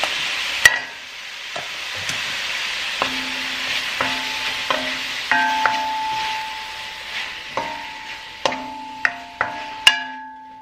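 Garlic and mushrooms sizzle in a pan with a steady soft hiss, broken by sharp clacks of a utensil stirring and tapping against the pan at irregular intervals, close and fairly loud.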